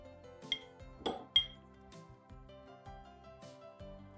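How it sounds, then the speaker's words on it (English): Roasted spices pounded into a coarse powder, heard as a few close, sharp clinking knocks of metal or stone utensils with ringing tones, spaced irregularly over a few seconds. "pound these spices into a coarse powder"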